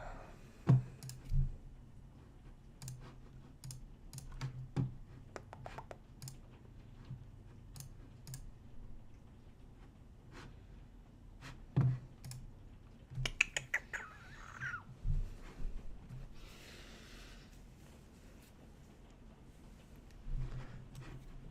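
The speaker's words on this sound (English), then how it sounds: "I apologize in advance for having a loud keyboard." Loud computer keyboard clacking during a ranked Magic: The Gathering Arena session, with sharp irregular keystrokes and occasional heavier spacebar-like hits scattered over a quiet background, no talking.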